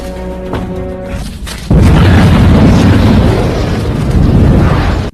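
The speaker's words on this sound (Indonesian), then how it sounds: "membuat ledakan menggunakan bahan peledak yang mereka bawa" Explosives set off in a movie scene produce a loud blast that erupts suddenly after a quieter opening, then rolls on as a dense, sustained roar of debris and rumble to the end.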